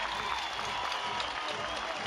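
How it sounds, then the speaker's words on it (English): A college softball crowd, Nebraska fans, applauds and cheers after a hard hit to left field, a dense, steady wash of clapping and crowd noise throughout, with a commentator's voice faintly underneath. "the Huskers bring this crowd to their feet"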